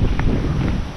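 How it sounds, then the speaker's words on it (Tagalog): Gusty outdoor wind buffets the microphone as a dense, steady low rumble for about a second, with no voices. "Hangin."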